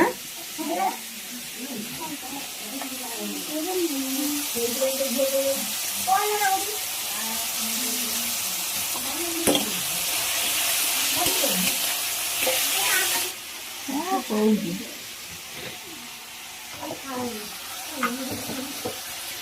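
Masala spices frying and being stirred in a cooking pot, a steady sizzle and hiss running throughout with scraping stir strokes, while people talk over it nearby.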